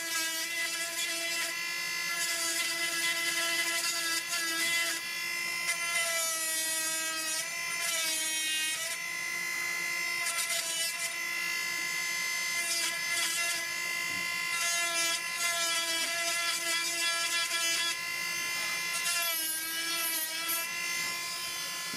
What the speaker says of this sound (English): if you're gonna buy a Dremel,